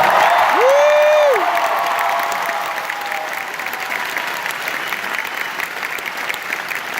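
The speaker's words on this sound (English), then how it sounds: "this deserves a round of applause" A convention audience at a MegaCon 2018 Avengers Infinity War panel with Jeff Goldblum breaks into dense, sustained applause and cheering. A sharp whistle rises above it near the start, then the crowd noise stays steady and gradually softens.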